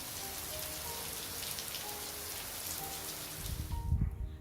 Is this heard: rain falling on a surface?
yes